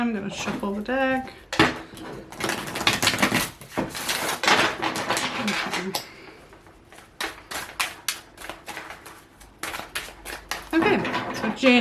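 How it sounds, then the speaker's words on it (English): Tarot cards are shuffled by hand in quick clattering riffles and bursts, sharp papery snaps close to the mic, with brief talk at the start and near the end. "I'm going to shuffle the deck."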